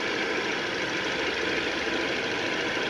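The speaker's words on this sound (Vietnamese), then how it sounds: "Máy nổ rất êm." A 1997 Lagenra sedan engine idling smoothly with the hood open, a steady even hum with no talk over it.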